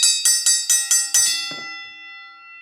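A bell rung on a talk show, six quick bright strikes in an even rhythm, close and loud, then the last tone rings out and fades for about a second without any talk.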